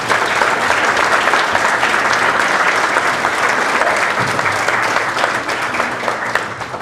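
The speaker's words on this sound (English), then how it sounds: "Give them a round of applause." Sustained, loud applause from a crowd at a bowling hall of fame ceremony, dense and even clapping for nearly seven seconds.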